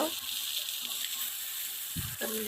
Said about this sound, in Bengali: পেঁয়াজ কাঁচামরিচ দিয়ে এখন উল্টা পাল্টা করে আমি ভেজে নেব